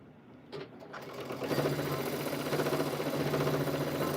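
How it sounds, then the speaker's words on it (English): A sewing machine stitches a backpack, starting with a few clicks, then running in a steady, close, rapid whir. "I'm sewing the sucker down."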